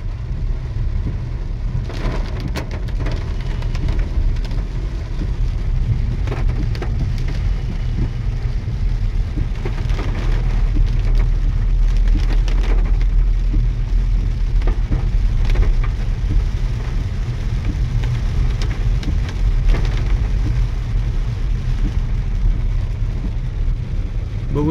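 Heavy monsoon rain pours steadily in Baramati early in the morning, a dense, continuous roar of drops on the ground and surfaces with no pauses, loud and close throughout, with faint passing traffic underneath.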